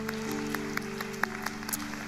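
A congregation claps at a Tuesday Holy Spirit church gathering, the applause moderate and steady beneath sustained organ or keyboard chords, with a few sharper claps popping out.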